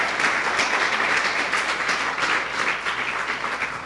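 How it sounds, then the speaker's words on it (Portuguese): A church congregation claps together in praise, a dense, loud wash of applause that stays steady from start to finish with no speech on top. "Uma salva de palmas ao Senhor."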